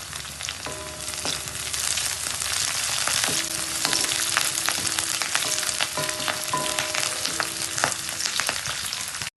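Onions, green chilies and curry leaves fry in hot oil in a kadai for chicken curry, a steady close sizzle with scattered crackles and occasional utensil clinks, no one speaking.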